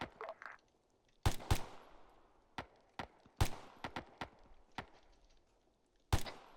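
Gunfire during a military airborne exercise, sharp cracking shots in irregular singles and short bursts, each echoing away into quiet, with no talking.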